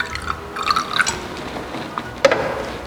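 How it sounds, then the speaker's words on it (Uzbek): Water is poured into a potassium permanganate solution in a school lab, giving faint, uneven trickling and dripping splashes with a brief sharper splash near the end. "Bunga ham suv aralashtiramiz."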